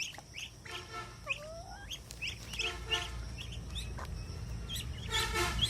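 Scattered quacks and calls from several birds, close by and irregular, over a low background rumble, no talking.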